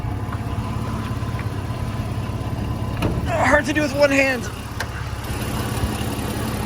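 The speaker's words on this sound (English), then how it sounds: "The engine runs like an absolute top." A 1988 Jeep Comanche's 4-liter straight-six idles steadily and close by, a low even rumble throughout, with someone talking briefly over it midway.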